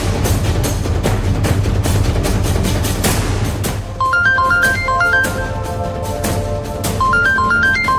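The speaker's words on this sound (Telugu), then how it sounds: "ఇదిగో ఇలా తలుచుకున్నానో లేదో మాధవి ఫోన్ చేస్తుంది." A mobile phone rings with an incoming call in a Telugu TV serial scene, a repeating melodic ringtone rising over a busy, loud background music score.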